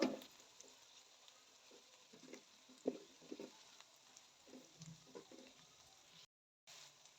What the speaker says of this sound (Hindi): फ्राई करूंगी इसको।